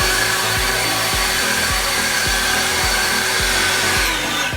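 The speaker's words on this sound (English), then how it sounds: "I then take my battery, which will go into my blower, and then just blow" A battery-powered Ego leaf blower sends a steady, loud broadband rush across grass clippings, with a low rhythmic pulsing underneath and no voices.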